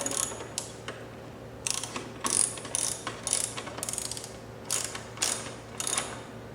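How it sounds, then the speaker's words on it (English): A hand ratchet tightening a 10mm nut on a Yamaha R3 motorcycle frame slider, a run of crisp clicking bursts in short, uneven strokes with pauses between them, close and clear, no talk. "once you get that 10mm nut nice and snug"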